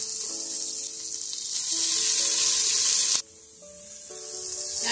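Onion goes into garlic frying in oil for a mangalô bean broth, a loud hissing sizzle with faint tonal squeaks that cuts off sharply, then swells back as frying resumes, heard alone without voices.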